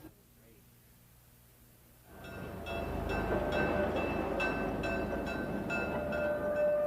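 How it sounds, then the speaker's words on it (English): Shay steam locomotive at the Pine Creek Railroad, quiet at first, then a loud, steady rumble of the running engine rising abruptly after about two seconds and continuing with regular rhythmic beats; no talk. "Steam trains like this Shay operate on weekends."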